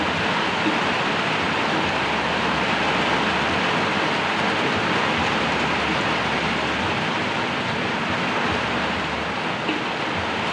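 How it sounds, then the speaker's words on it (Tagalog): Heavy rain pours down steadily, a dense continuous hiss with no break, close and loud throughout. "Lakas ng ulan."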